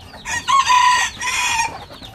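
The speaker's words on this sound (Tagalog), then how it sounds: "Ganda pa naman ng hen natin, oh." Hen of the Thailand Chabo bantam breed in a free-range chicken area, giving a few loud, close clucking calls in two bursts with no voices present.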